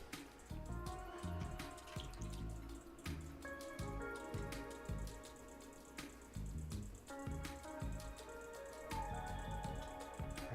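Water runs steadily from a tap during a pottery session, a continuous splashing flow with dripping accents and clinking, close and fairly loud, with no voices.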